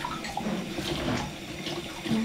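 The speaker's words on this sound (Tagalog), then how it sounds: "bakit mo ba hinuhugasan yung mga baso mo?" Running water from a kitchen tap splashing over drinking glasses being rinsed by hand in a sink, a steady close hiss with small clinks and shifts in the flow, no voices.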